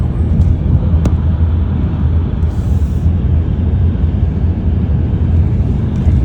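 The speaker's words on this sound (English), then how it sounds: "We're in a Mercedes van, and he's literally hit about 150 miles an hour." Steady loud road and wind roar from inside a Mercedes van travelling at high speed on the Autobahn, a dense continuous drone with no pauses.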